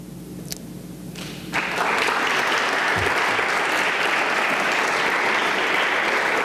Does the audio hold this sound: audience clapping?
yes